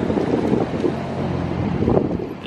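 Steady, loud wind buffets the microphone in a corridor in Monaco, a constant low roaring rumble with gusty swells and no speech.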